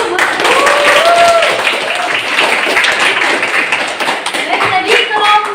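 A classroom group gets a burst of applause after finishing a presentation on grouped-data means, dense clapping from many hands that carries loudly across the whole stretch.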